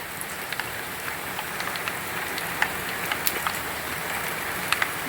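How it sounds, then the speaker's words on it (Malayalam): Mustard seeds crackle and pop in hot oil in a clay cooking pot as a tempering for a vegetable curry, a steady hiss studded with sharp, scattered pops up close, no voices. "കടുക് പൊട്ട് തുടങ്ങി"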